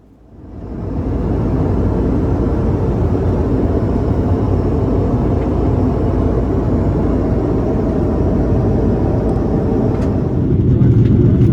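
A Qantas Airbus A330-300 descending into Hong Kong fills the economy cabin with a steady, loud low rumble and airflow roar that swells in within the first second and holds evenly throughout.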